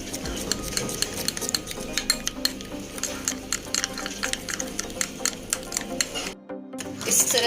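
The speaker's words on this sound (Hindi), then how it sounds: "सारी चीज़ों को मिला लेते हैं।" A spoon stirring a thick mixture of ginger juice and honey in a small container, tapping and scraping in quick repeated strokes, close and clear, with a short pause near the end.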